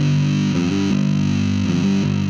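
A bass guitar runs through a Boss ODB-3 overdrive set around the middle, giving a loud, fuzzy sustained tone with a short run of changing notes and the clean signal blended underneath.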